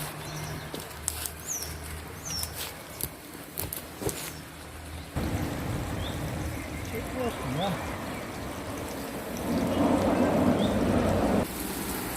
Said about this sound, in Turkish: Ve son olarak da şöyle yağmurlama şeklinde suluyorum bunları